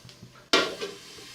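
A sudden loud sizzle bursts out as pepper hits a hot pan, then settles into a softer frying hiss with a faint clink of cookware.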